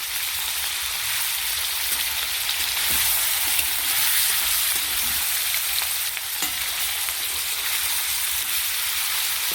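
Food fries lightly in a pan with a dense, even sizzle throughout, close and fairly loud, with occasional faint clinks of stirring.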